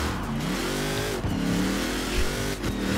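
A car engine revving hard in Forza Horizon 4, a loud, continuous mid-pitched roar that rises and falls with a few gear-shift dips across a few seconds.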